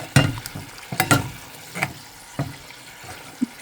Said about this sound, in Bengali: তরকারিটা একটু গরম করে নিয়ে যায়